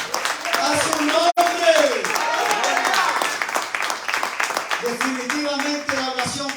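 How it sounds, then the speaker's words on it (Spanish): A church congregation claps and voices rise in praise, a lively mix of rhythmic clapping, singing or shouting and a brief thump, continuing throughout. "Si quieres, puedes dar un aplauso al que vive."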